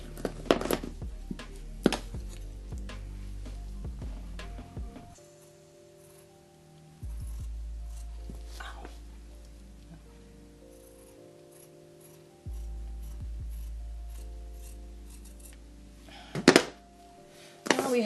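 Scissors snip through blouse fabric to cut out a hole, giving soft scattered clicks and thunks over a low steady hum that drops in and out.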